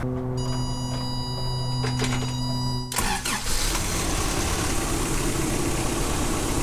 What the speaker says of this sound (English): So let's get this thing started.